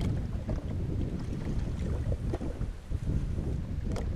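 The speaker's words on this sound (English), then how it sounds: "We're still drifting quite fast because of the wind." Wind rushes steadily across the open sea around a drifting jet ski, a constant loud buffeting roar with gusty rumble and small splashes of water, and no voices.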